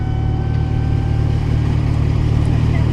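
Porsche 911 Turbo in semi-worn condition idling steadily nearby in traffic, with a constant deep low rumble and a few faint whining tones above it that hold unchanged throughout.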